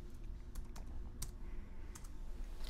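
Keys tapped on a computer keyboard to enter a command, a few quick clicks in short bursts, quiet and close with no talk.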